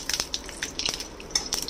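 Curry leaves crackle and spit in hot oil in a pan while tempering a chutney, a run of sharp, close pops and sizzles in irregular bursts.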